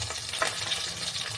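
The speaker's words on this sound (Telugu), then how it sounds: "ఇప్పుడు సన్నగా తరిగిన ఉల్లిపాయలు వేసుకోవాలి." Finely chopped onions fry in oil in a kadai, a brief, moderately quiet burst of steady sizzling heard up close with no voices.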